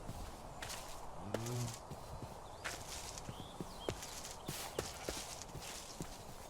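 Minecraft horse hooves clip-clop in a steady, moderately paced walk, crisp and close, with a brief horse snort early on.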